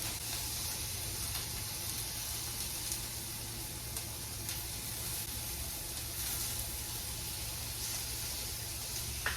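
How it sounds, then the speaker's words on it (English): Eggs fry in oil with garlic and onion seasoning in a home kitchen pan, giving a continuous soft sizzle and crackle throughout, steady and close with no voices. "Here I am cooking eggs."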